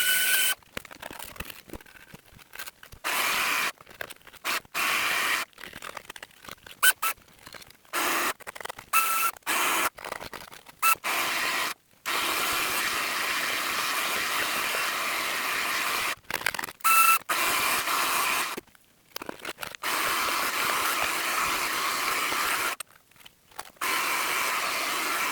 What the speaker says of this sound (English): Have a little hoover up while I'm able to